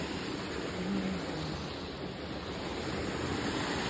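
Cold mountain water flowing steadily in a stream, a continuous broadband rush heard close and fairly quiet, with no voices over it.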